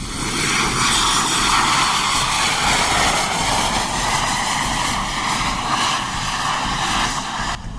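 An F-35 Lightning II, the American fighter jet, gives a loud, steady roar that fills the whole stretch with no speech and no letup.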